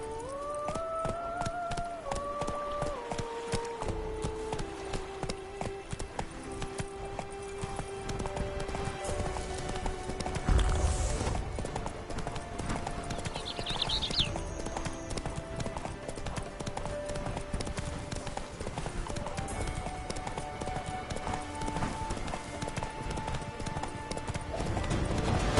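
Game horse Roach gallops through The Witcher 3's world, her hooves drumming a fast, continuous rhythm up close for the whole stretch, with occasional snorts and a tonal music line drifting underneath.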